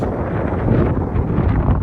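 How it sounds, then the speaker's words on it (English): Strong, steady wind on a high rocky ledge buffets the microphone with a constant low roar and gusty rumble, loud and continuous throughout. "I know it's windy"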